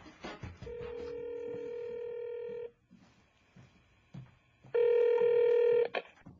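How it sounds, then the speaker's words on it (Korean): A telephone call rings through on a Korean radio show, two long electronic ring tones separated by a quiet gap, loud and clear, with faint studio sounds between them. "전화 걸어주세요."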